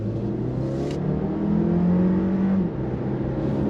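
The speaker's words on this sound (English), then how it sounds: "you got a real engine noise" Alfa Romeo Tonale small SUV with a roughly 280-horsepower gasoline engine in D drive mode, a steady engine drone that swells and rises in pitch mid-way as it pulls, fairly close and continuous with no talk.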